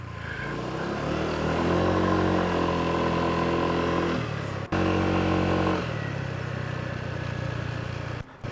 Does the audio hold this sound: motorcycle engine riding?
yes